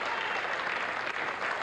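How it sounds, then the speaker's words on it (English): Steady crowd applause at a 1988 youth cricket World Cup final, Australia versus Pakistan, a dense patter of clapping that holds at an even level throughout. "Applause from an appreciative crowd"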